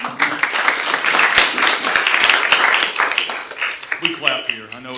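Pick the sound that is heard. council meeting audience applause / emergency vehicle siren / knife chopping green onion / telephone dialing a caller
council meeting audience applause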